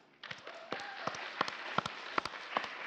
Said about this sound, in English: So give a round of applause to the youth.